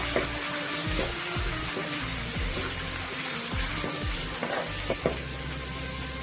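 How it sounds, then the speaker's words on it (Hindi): Onion and dry fish sizzling in hot oil in a wok, a steady close fry broken by repeated scraping stirs of the spatula, with no talking. "इसी तेल पे थोड़ा सा प्याज ऐड कर देंगे। अभी मैं ये ड्राई फिश को ऐड कर देंगे।"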